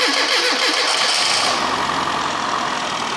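A classic Rover Mini Cooper engine cranks and catches, then settles into a steady, loud idle close by, with no voices.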